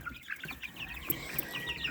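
Backyard chickens and roosters, including a grey cuckoo-patterned cockerel, cluck in short soft bursts at moderate distance, a few brief higher calls cutting through a quiet farmyard.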